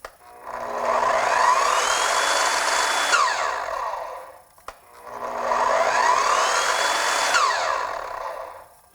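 An Evolution multi-material miter saw, a saw built to cut wood, metal and plastic, runs up through a soft start into a loud, steady whine, winds down, then starts and runs again in a second near, continuous burst.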